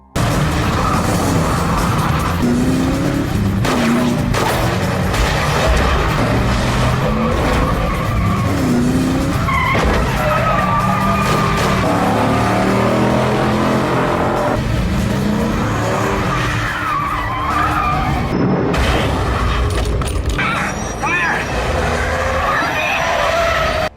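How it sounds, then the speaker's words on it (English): A car chase on a highway with one car pursuing a kidnapper's car while shots are fired, full of loud, continuous engine roar, tire screeches and skidding, dense and unbroken throughout. "On the highway, Ben chases the kidnapper's car, firing shots"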